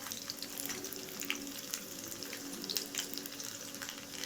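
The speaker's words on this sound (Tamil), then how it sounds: "எண்ணெய் சூடான பிறகு நீளமாக கட் பண்ணி வச்சுருந்த பூண்டு ஆட் பண்ணிக்கணும்" Long-cut garlic slices hit hot oil in a pan for street-style chicken fried rice, giving off a soft, steady sizzle with occasional crackles, close by and fairly quiet.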